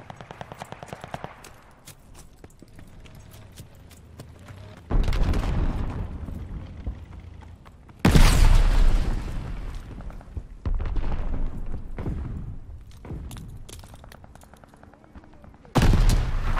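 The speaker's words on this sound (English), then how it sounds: "Throwing grenade!" Grenade blasts and gunfire in the Call of Duty Vanguard video game: dense rattling shots with several loud sudden booms that cut in and ring out, chaotic and close, continuing through the whole stretch.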